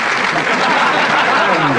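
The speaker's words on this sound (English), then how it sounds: "Big round of applause" A brief, dense burst of audience clapping greets a judge, Mike Maloney of the Daily Mirror, at the 1979 Miss Anglia beauty contest.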